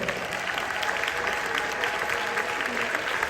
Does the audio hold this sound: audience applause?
yes